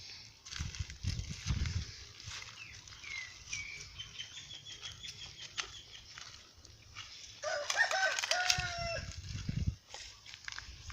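Rooster crows and chickens cluck from a coop set over a pond, with bursts of crowing rising clearly around the midpoint and scattered clucks throughout, over a steady outdoor background.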